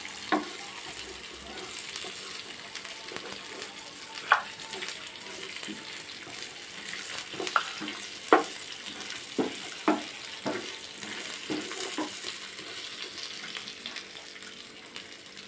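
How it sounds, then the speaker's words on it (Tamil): Garlic and other ingredients fry in a pan, a steady soft sizzle with scattered sharp pops and crackles, heard close by at moderate loudness. "எல்லாம் போட்டு நல்லா வறுத்துக்கலாம்."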